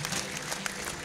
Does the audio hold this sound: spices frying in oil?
no